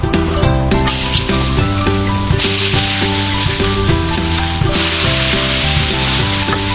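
Fish frying in a shallow layer of oil in a pan, a steady close sizzle and crackle running throughout, with music playing over it and no talking.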